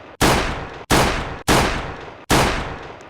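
Four loud, evenly spaced gunshots from a deer-hunting video game, each a sharp blast with a brief decaying tail, close and alone with no talk.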